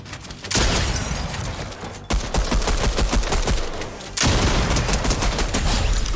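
Rapid bursts of gunfire in the Arena video game, loud and close, with dense rattling volleys separated by brief pauses; no talking.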